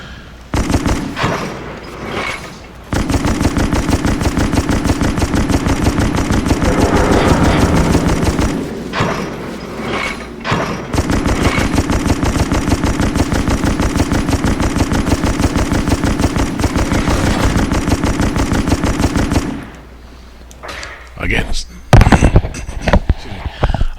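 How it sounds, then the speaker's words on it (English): Ship guns in the Naval Assault: The Killing Tide game on Xbox 360 fire at cruisers and battleships. Loud, rapid, continuous gunfire runs in long sustained bursts, broken by brief lulls and a few heavier blasts near the end. "So I'm just going to fire on these battleships or on these cruisers."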